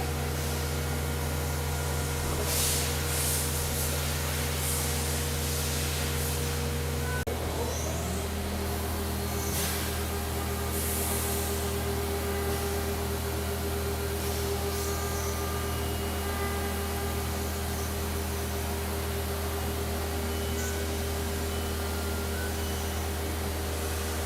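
A 2020 Haas VF-2SS CNC mill surfacing a part, a steady loud machine hum and whine with constant tonal drone and broadband cutting noise, shifting pitch once early on, then holding evenly throughout.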